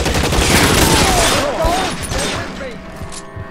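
Gunfire in the video game L.A. Noire, a rapid burst of sharp shots crowding the first two seconds and then thinning to scattered cracks, with game sounds and voices mixed in.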